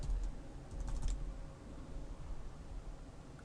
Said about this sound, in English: let's go back to our page here and type in our password again